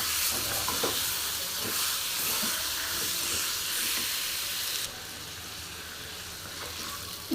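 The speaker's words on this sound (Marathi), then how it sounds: "हा स्टीमवरती होतं, व्यवस्थित तळलं जातं" Lemon-spiced chicken sukka fries and steams in a pan with a loud, continuous sizzling hiss and occasional stirring scrapes. The hiss drops to a quieter, steadier level partway through. No one speaks.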